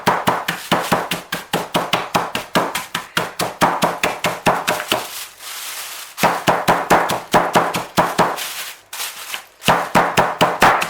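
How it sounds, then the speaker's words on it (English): Rapid, sharp hammer blows pound biscuits in a freezer bag, close and loud, with a brief pause midway before the steady smashing resumes. "Get a hammer, always leave a bag open so you don't pop your bag."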